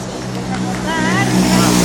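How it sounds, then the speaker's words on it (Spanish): A police car passes along the route of the Euskal Herriko Itzulia cycling race in Altsasu. The engine roar swells loudly, wavering siren-like tones cut through, and crowd chatter sounds underneath. "Cuando pase el coche de los guardias"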